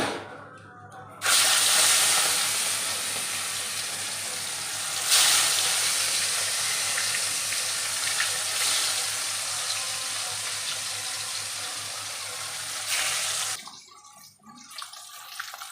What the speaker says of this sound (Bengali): মাছগুলো ভালোভাবে দেখো ভাজা হয়ে গেছে, তুলে নেবো